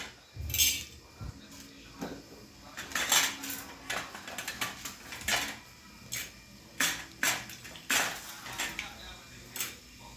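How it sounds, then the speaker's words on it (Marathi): Chana dal poured into a pan for dry-roasting a village-style masala alongside coriander seeds and coconut, giving a run of sharp, rattling clatters and clinks of grains and utensil against metal, fairly close and with no talking. "आता बघा सर्वात पहिले आपल्याला याच्यावरती हरभरा डाळ घालायची आहे"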